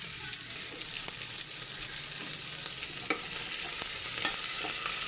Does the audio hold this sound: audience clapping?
no